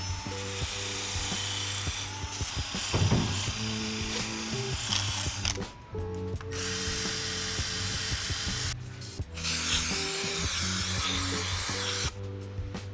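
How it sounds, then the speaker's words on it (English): Wire wheel on a power tool scrubbing the gasket surface of a Nissan VQ35DE engine block, a harsh whining grind running in long bursts with brief pauses, loud and close, with no talking. "Now we're going to wire wheel all around here so that we can RTV the back of our gasket"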